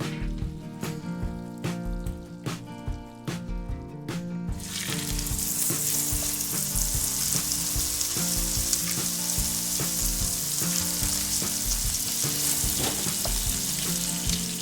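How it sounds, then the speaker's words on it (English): Salmon pieces hitting a hot pan at medium-high heat: rhythmic background clatter gives way to a sudden loud, sustained sizzle that holds steady and close to the end. "Pan is going to be at medium high. And now we're going to put our salmon in there."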